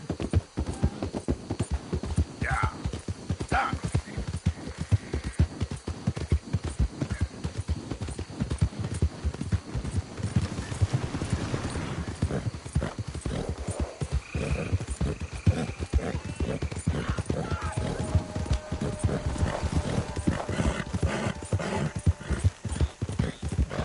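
Rapid, rhythmic clip-clop of horse hooves at a steady trot in Red Dead Redemption 2, continuous and close, with faint whinnying snorts mixed in.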